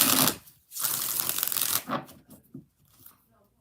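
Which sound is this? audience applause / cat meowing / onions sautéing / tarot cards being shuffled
tarot cards being shuffled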